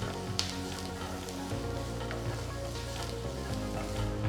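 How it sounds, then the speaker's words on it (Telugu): Three medium-sized finely chopped onions frying in about three teaspoons of oil in a pan, a steady soft sizzle with faint crackles and no talking. "ఇందులో చిన్నగా తరిగిన 3 మీడియం సైజ్ ఉల్లిపాయలు వేసి వేయించాలి."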